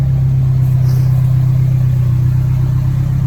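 A Nissan 240SX engine holding a steady, loud, low hum close by, with no clear rise or fall in revs and no talk over it.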